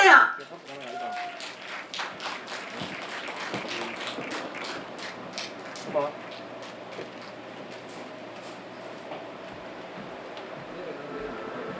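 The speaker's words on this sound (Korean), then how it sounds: "큰 박수 주세요" Audience applause at a Korean singer's new-song launch and birthday celebration for her mothers, dense scattered clapping that holds steady, with background speech and room noise underneath.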